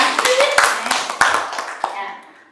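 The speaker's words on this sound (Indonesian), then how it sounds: "Tepuk tangan untuk semua tanggapannya." Audience applause at a positive-discipline school outreach session, a dense burst of clapping from a room of adults that swells and then tapers off over a couple of seconds.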